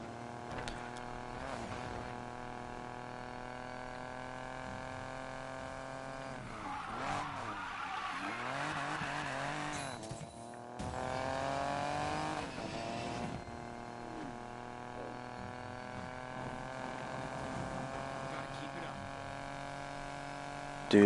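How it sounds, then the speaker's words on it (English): A car drifts through corners in the racing game Need for Speed Payback, its engine droning steadily while long tire skids and squeals rise and fade repeatedly; a voice talks intermittently over the game sound. "Okay, let's get these drifts."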